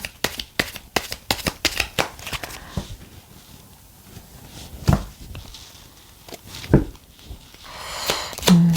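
Tarot cards are shuffled and drawn by hand in a series of crisp, close riffling bursts. Quieter handling and tapping follow, then another brisk shuffle at the end.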